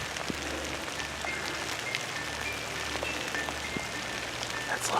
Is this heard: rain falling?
yes